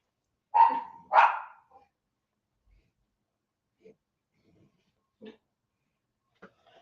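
A dog gives two loud, drawn-out vocal calls close by, followed by several short, faint yips and sounds scattered through the quiet.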